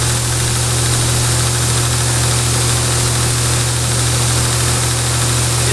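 A broadhead arrow tip is pressed against a spinning buffing wheel, giving a loud, constant motor drone with steady mechanical hum and no pauses throughout.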